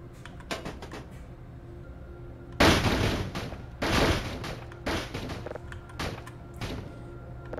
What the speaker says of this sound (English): It'll explode into a bunch of little pieces.